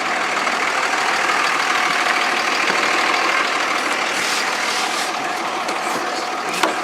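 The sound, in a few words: ranch truck engine running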